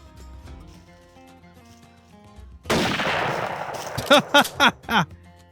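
A gunshot during a deer hunt, a loud broadband blast with a lingering tail, followed by several sharper distinct bangs or knocks in quick succession; no talking.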